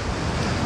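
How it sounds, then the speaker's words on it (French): Steady rain pours in a Kyrgyzstan mountain valley during a thunderstorm, a dense broadband wash with wind buffeting the microphone, loud and continuous with no voices. "Ah oui, il pleut."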